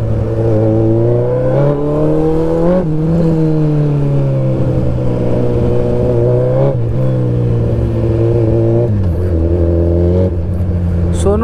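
A Suzuki Hayabusa motorcycle engine revs and runs close by after rain, a loud steady drone with pitch rising and dropping through several throttle changes and shifts.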